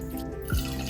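A short splash of vodka, about 45 ml, pours over ice in a cocktail glass: a brief, close liquid gush lasting under a second.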